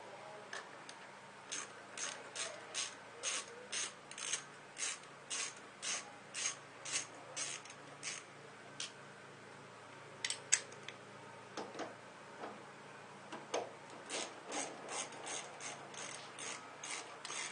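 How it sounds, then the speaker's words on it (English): A hand ratchet works loose the 10mm worm clamps on the upper radiator hose of a 2001 Dodge Dakota 4.7L, giving long runs of rapid, even clicking in bursts with brief pauses, close up and with no talking. "let me go ahead and take this off. These are worm clamps, and on mine they're 10mm"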